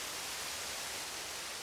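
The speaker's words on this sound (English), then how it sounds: "rain on water" Rain falling onto water in Minecraft with the Cool Rain mod: a continuous, uniform rushing hiss, soft and unbroken, with no voices.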